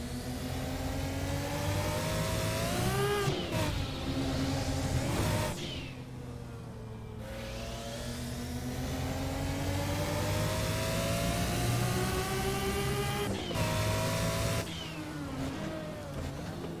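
Car engine in Assetto Corsa with the DRM Revival mod, revving steadily through rising and falling pitch sweeps with brief drops between gear changes, continuous and fairly close, with no talking.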